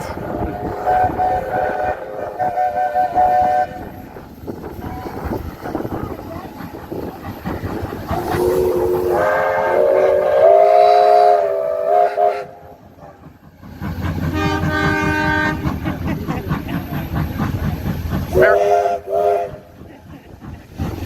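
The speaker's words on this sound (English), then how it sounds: "They're all communicating in their native language, the steam trains." Several steam locomotive whistles and horns sound one after another at a railway workshops open day in Newport, long loud blasts of differing pitch over rumbling train noise.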